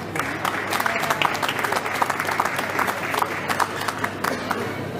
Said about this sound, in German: Und ich finde, dafür ist schon mal ein kleiner Applaus verdient.